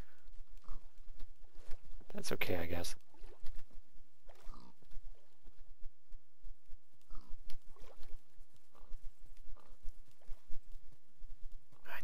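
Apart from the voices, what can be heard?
pigs in Minecraft video game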